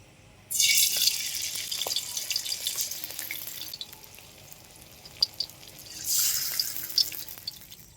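Water splashes into a pan of spiced meat being cooked down for a Bengali festive thali, in two bursts of steady, close pouring with faint drips and sizzling between them and no talking.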